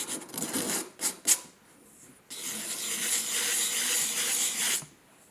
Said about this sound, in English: I sand the bottom of each with the 200 grit diamond pad made by Diamond Core Tools